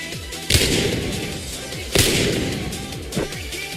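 Three loud, booming gunshots from Apex Legends, fired at a distant target, each a sharp blast at roughly 1.5-second intervals with a long echoing tail between shots and no talking.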